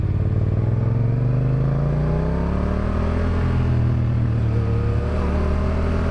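Yamaha FZ07 motorcycle engine running steadily loud and close while ridden, with a continuous low rumbling drone whose pitch rises and falls as the throttle is worked.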